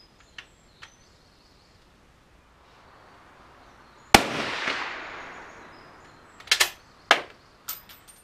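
A Swiss rifle chambered in 7.5x55 fires reduced loads outdoors: one sharp report with a long decaying echo midway, followed by several shorter cracks and clicks that sound like the action being worked, with quiet ambience around them.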